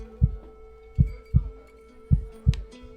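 Heartbeat sound effect in the video game Liar's Bar, with five loud, deep thumps at an uneven pace over a low steady hum.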